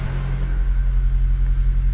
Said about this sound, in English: All right, at least we know the car starts.